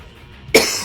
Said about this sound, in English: I'm beginning to have a little coughing fit here.